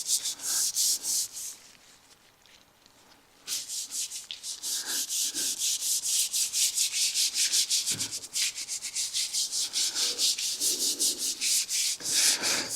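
A suede applicator rubs coating onto a textured blue magnesium Porsche GT4 RS wheel in rhythmic, close, hissing strokes, pausing briefly before resuming in a steady back-and-forth scrubbing pattern.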